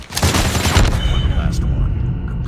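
Gunfire in the Call of Duty Mobile shooter game, loud rapid bursts of shots that trail off into a rumbling echo.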